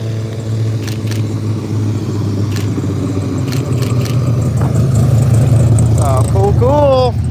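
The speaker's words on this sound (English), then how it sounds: "got one of our trucks here" Truck engine rumbling and idling as it arrives at a roadside car show, a loud low drone that grows slightly heavier toward the end, with people talking over it.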